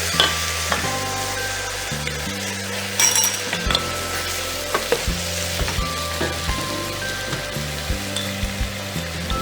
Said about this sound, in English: Add a cup of curd here. Mix well.